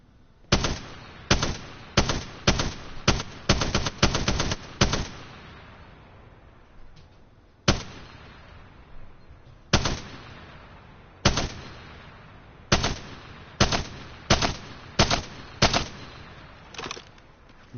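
Bursts of rapid light machine gun fire from the Spitfire in the Apex Legends video game, sharp cracks in short strings and single shots, with longer rapid bursts early and quiet gaps between volleys.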